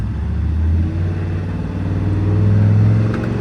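A Chevy truck with a newly replaced transmission pulls away, its engine a loud, close, steady low drone that rises gently as it moves off.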